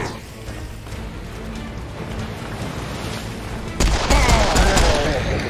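Hip-fired guns in the game Serious Sam: Siberian Mayhem make a continuous rattling barrage over a noisy rumble, then a louder, sharper burst of fire near the end; no talking is heard.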